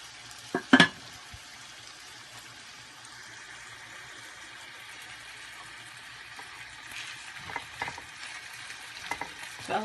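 Ground meat browns in a pan with a soft continuous sizzle and a few sharp stirring scrapes, close and fairly quiet, without speech.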